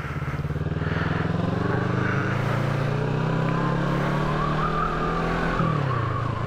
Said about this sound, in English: And that is how you get your bike moving.